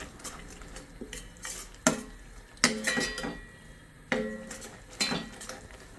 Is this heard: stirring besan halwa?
yes